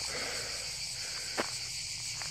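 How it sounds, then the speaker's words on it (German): Dense, steady chirping of crickets fills the air outdoors in Croatian brush, a constant high buzzing with a single soft thump partway through. "Es ist so laut, die Grillen machen ein Tam-Tam hier."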